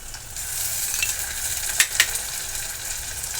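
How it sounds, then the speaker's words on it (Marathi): Ginger garlic paste frying in hot oil for an egg masala curry, a steady close sizzle with a couple of sharper spatula scrapes midway, no voices. "आता अद्रक लसूण व्यवस्थित आपण तेलामध्ये फ्राय करून घेतलेला आहे"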